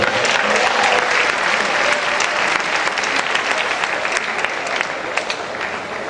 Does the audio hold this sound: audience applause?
yes